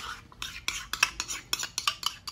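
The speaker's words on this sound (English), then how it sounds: "The creme fraiche into a bowl." A spoon scoops creme fraiche into a bowl, a quick series of close wet scrapes and clinks against the dish, brisk and fairly loud with no talking.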